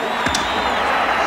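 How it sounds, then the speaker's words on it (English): Big rugby league stadium crowd roaring and cheering with whoops as Wally Lewis walks out amid fireworks, a dense, sustained wash of noise at steady loudness with a brief louder burst near the start. "The crowd here, fireworks going up, and this crowd absolutely over the top to see him have a big night tonight."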